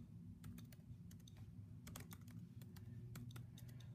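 Rapid keystrokes on a computer keyboard during a typing demonstration, close and clear, in irregular bursts of clicks over a steady low hum, with no voices.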